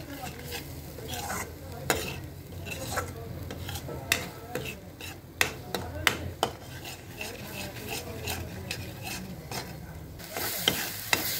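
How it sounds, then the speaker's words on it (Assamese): Vegetables sizzle in a pan while a utensil repeatedly scrapes and knocks against the metal, irregular clinks over a continuous frying hiss. "সেইখিনি এনেকৈ ভাজি আছোঁ পূৰা।"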